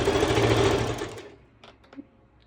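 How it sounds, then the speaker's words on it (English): A sewing machine stitches elastic on a ruffled mini skirt, giving one steady, close, whirring run that stops, followed by a few faint clicks and handling noises. "I'm just trying not to stitch over the elastic"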